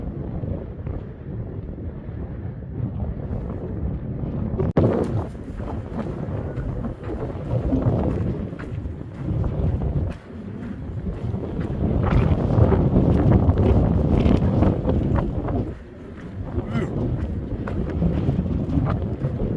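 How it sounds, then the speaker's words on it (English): Strong wind gusts buffet the microphone in the Mojave Desert, a steady roaring rush that surges and dips, loudest from about five seconds on, with no talking. "that thing is really whipping up some wind"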